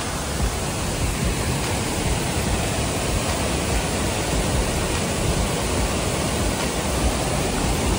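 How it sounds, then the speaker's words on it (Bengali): A waterfall pours during rain in Sri Lanka, a loud, steady, broadband roar that holds unchanged throughout with no voices. "এখন বৃষ্টি হচ্ছে, ঝর্ণার শব্দটা শুধু দেখো।"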